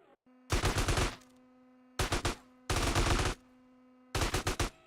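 Automatic gunfire in GTA San Andreas rips out in four loud, rapid bursts separated by short pauses, each burst a tight stream of shots over a steady tonal hum.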